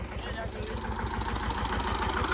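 A tractor's engine chugs in a steady low rhythmic throb, close and unbroken, as someone talks over the running motor.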